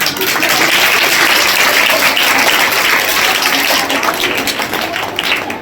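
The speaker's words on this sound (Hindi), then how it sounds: "तालियां बजा दो।" Villagers at a patriotic school event clap in sustained, dense applause, a loud continuous crackle of many hands with no voices over it.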